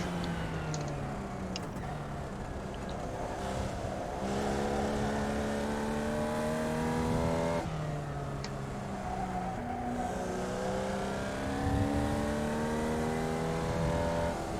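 Formula Vee race car lapping Summit Point Raceway in the iRacing sim, its small engine droning and revving steadily with rising and falling pitch through gear changes, loud and continuous without talk.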